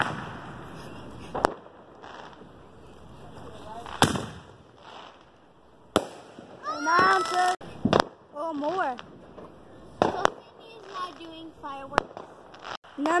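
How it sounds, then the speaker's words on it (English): Fireworks going off at a Fourth of July celebration: several sharp bangs and crackling bursts spaced irregularly, near and loud, over background crowd noise, with whistling or voices between the blasts. "Firework number 14."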